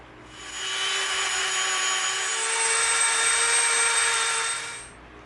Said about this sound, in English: we're going to come in now with our Dremel and we're going to clean the inside of